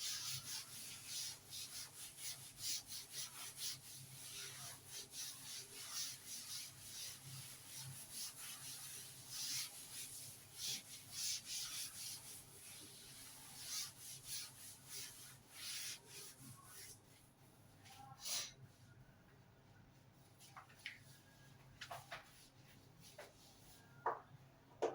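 An eraser scrubs chalk or marker writing off a classroom board in quick repeated strokes, faint and close, continuous for most of the stretch before thinning to a few scattered rubs.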